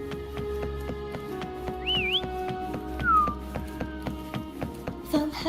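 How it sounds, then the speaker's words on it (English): A character in the Wuthering Waves video game whistles to call a companion named Foam, two rising-and-falling whistle tones over a rhythmic game music bed with soft clopping beats, ending in a brief burst of effects. "Try whistling."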